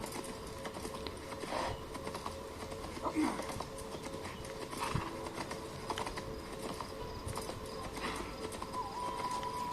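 Horse hooves clip-clop steadily during riding in Assassin's Creed Shadows, a continuous rhythmic patter under game ambience and a talking voice, moderate in level throughout.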